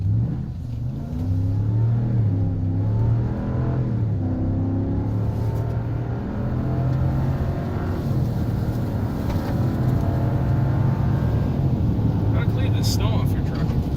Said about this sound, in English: we can kind of stop here quickly and just do a good acceleration test